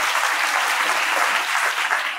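A school annual day audience applauds a welcome dance, dense continuous clapping that fills the hall at a steady loud level.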